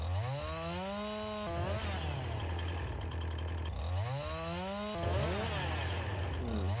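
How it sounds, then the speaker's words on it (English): A chainsaw revs and bites into a felled tree in Farming Simulator 19, its engine pitch rising and falling in several sweeping bursts between steadier idling stretches, loud and close throughout. "Showing our inexperience with the chainsaw there"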